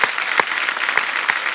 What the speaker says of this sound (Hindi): जोरदार तालियां बनती हैं।